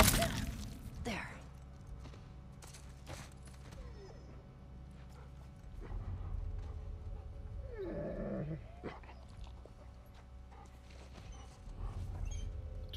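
Dogs bark in The Last of Us Part II, a few sharp yelps early and a growling, snarling burst midway, set against a steady low ambient rumble.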